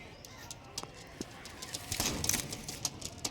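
A settled pair of pigeons coos softly in low, muffled pulses, with scattered light clicks and taps around them, growing a little busier toward the end.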